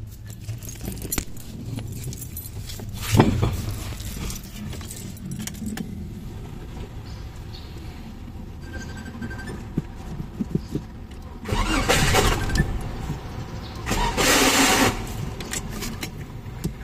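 Keys jangle at the ignition of a 1995 Mitsubishi Galant VR4 automatic, then the starter cranks with a loud burst and the engine catches, a second strong cranking surge following; the starter has a known fault of slipping.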